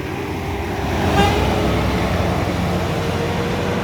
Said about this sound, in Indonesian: Bus masuk.